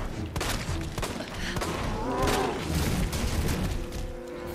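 Gunshots ring out during a boss fight in Resident Evil 2 Remake, several sharp blasts over a busy, rumbling game soundscape, loud and close with thuds in between.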